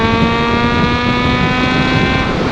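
A Kawasaki ZH2 motorcycle with a replacement muffler revs hard with a throaty, steady roar, close by and dominating, with no talking.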